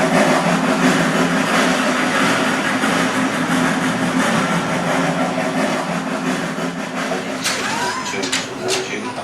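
A train runs in a rail museum signal simulator, producing a steady, broad rolling rumble with some brief clanks near the end, while people talk over it.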